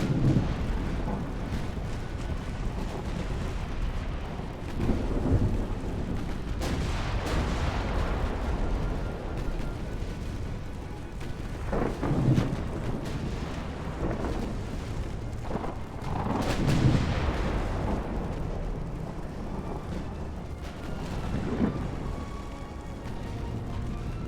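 Naval secondary guns firing in the game Ultimate Admiral: Dreadnoughts, 1890-era warships trading fire in a battle, with heavy booms and rumbling blasts arriving irregularly over a constant low roar, no speech.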